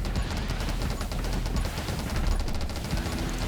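Rapid weapon fire in the video game 20 Minutes Till Dawn, a dense, continuous stream of quick shots and crackling impacts over a steady loud game backdrop, with no pauses for the full stretch.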